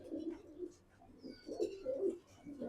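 Silver muslidom pigeons in a home loft coo in soft, repeated low-pitched phrases, fairly near and steady, with faint higher chirps from other birds in the background.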